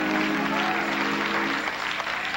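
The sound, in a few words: congregation applauding in church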